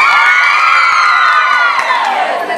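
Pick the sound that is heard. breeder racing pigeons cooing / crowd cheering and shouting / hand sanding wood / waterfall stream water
crowd cheering and shouting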